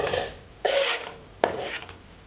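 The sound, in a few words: stirring besan in ghee with a spoon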